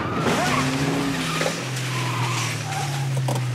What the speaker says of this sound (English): Whoa, put the brakes! Brakes!